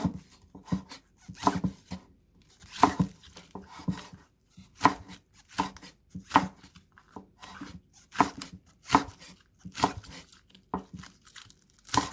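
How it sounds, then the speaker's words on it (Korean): A knife chops vegetable stalks and roots on a cutting board, slicing diagonally for tofu kimchi, in a run of close, crisp irregular strokes with short pauses between bursts. "대와 뿌리 부분을 어슷썰기로 이렇게 썰어 주세요"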